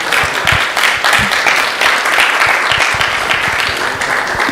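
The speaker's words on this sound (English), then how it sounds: "A big round of applause for His Holiness Romapada Swami." Loud, dense applause from an audience after a class at the ISKCON Phoenix temple, many hands clapping continuously for several seconds, close and with no talk over it.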